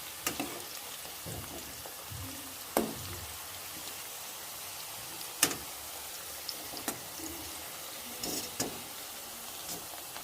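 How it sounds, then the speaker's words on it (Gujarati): Whole brinjals fry gently in oil on a low flame, giving a faint, steady sizzle broken by scattered soft pops and crackles. "આવી રીતે ધીમા તાપે આપણે ગેસ ધીમો જ રાખીશું, જેથી કરીને રીંગણા બરોબર ફ્રાય થઈ જાય"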